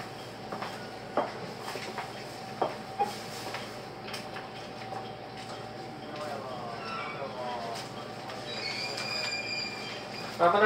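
A JR Shikoku Marine Liner rapid train, a 223 series 5000 type running from Okayama to Takamatsu, starts to move with rail rumble, clicks and a faint wheel squeal, the noise swelling toward the end as a voice talks in the background.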